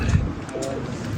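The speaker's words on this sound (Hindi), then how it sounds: "एक कसूरी कबूतर है, कसूरी।" A Kasuri pigeon on a rooftop loft gives soft, low cooing through the short clip, close and steady, with someone talking over it.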